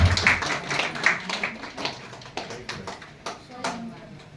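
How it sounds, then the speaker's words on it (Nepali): A seated audience claps for the poet's wife at a Nepali literary gathering, with scattered, moderately loud applause that tapers off over several seconds amid background room noise. "एकचोटि सबै ताली बजाएर मलाई सम्मान गर्छ"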